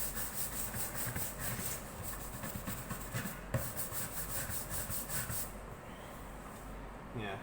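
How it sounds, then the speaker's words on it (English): A stiff brush scrubs back and forth over the body of an electric baritone ukulele in steady repeated strokes, close and fairly loud, ending in a quieter tail. "Right, so let's just brush it over and see what we come up with."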